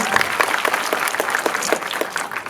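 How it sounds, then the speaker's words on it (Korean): Warm applause from a cinema audience at a screening Q&A for the film Okja, welcoming director Bong Joon-ho; dense, sustained clapping from a sizable crowd filling the hall, with no speech over it. "봉준호 감독님 다시 한번 뜨겁게 박수로 환영합니다."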